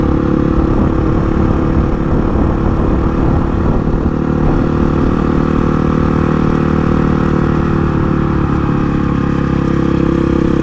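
A Honda CRF 450 single-cylinder 450cc motorcycle engine runs steadily and loudly up close, a constant throbbing drone with a rough mechanical clatter and no real change in pitch.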